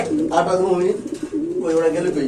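Blue satin pigeons coo in low, throaty, rolling phrases, two clear bouts close by over a steady background, at a market where birds are being sold.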